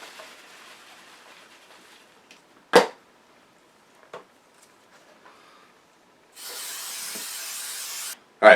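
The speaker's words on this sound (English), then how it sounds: "I'm gonna hopefully get most of the spray in here" After a few short clicks and taps, an aerosol can sprays in one steady hiss lasting about two seconds, followed by a brief final burst.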